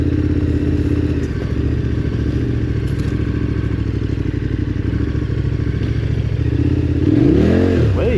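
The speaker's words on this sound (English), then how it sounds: "But this bike, how good does a V-twin sound?" A KTM 1290 Adventure R V-twin motorcycle engine idles and revs on an Australian bush trail, a loud, steady, throbbing rumble close by with a rising rev near the end and occasional clatter.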